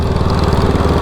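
A ride-on lawn mower engine runs steadily close by, a loud chugging putter with a fast regular pulse and no voices.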